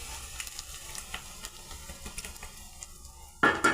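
Ghee tempering (tadka) poured into amaranth (chalai) saag in a home kitchen: a faint sizzle and light clatter run throughout, then a loud, sharp hiss bursts in near the end as the hot ghee hits the greens.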